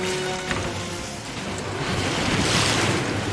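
Ocean waves surge and wash in the Sea of Thieves game, a loud, steady roar of surf with wind noise swelling toward the end, and no voices.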